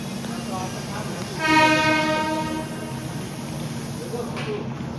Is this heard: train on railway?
yes